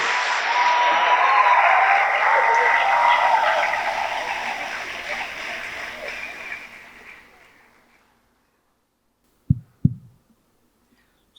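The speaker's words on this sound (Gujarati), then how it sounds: "એકવાર બુલંદ તાળીઓના વિવેક સાથે એમને આવકારીએ" A festival audience at a Gujarati literary gathering in Bhavnagar welcomes the poet Rajendra Shukla with loud applause. The clapping swells, then gradually fades to silence, and a couple of soft thumps follow near the end.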